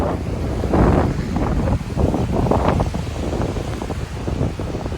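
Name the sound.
wind blowing at the beach during a tropical storm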